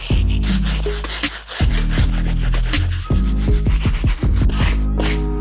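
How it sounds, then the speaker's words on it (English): A stiff bristle brush scrubs hard against the outsole of a Jordan Aqua 8 sneaker in quick, loud back-and-forth rasping strokes, close up and continuous with a brief pause partway through. "let me go ahead and tackle that using our stiff bristle brush"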